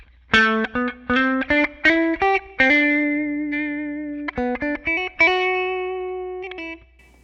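Electric guitar played through a Line 6 Helix amp modeler with reverb: a few choppy strummed chords, then sustained ringing chords that fade, repeating in short phrases.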